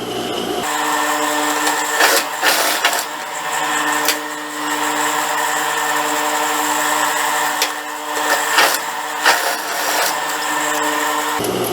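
A sewing machine stitches the shoulder seam of a child's blouse, joining back and front with right sides together at a 1 cm margin; a steady mechanical whir runs almost continuously, with brief surges and dips, and no one talks.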